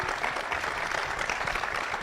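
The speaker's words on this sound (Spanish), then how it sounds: "un aplauso por favor para el panel" Steady, dense applause from a conference audience thanking a panel on natural gas expansion in Cusco and other regions of Peru, a continuous wash of many hands clapping at moderate volume with no pauses.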